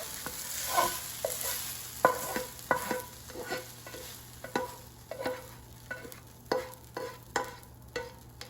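Arugula sizzles and crackles in a hot frying pan, with sharp clattering knocks of a utensil stirring at irregular intervals.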